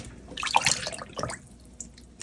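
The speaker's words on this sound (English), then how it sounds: "I'm just rinsing it off a little bit with a little bit of vinegar and water that's in here" Pork ribs being rinsed with vinegar and water, a few brief splashes and trickles of liquid, close and quiet, with short gaps between bursts.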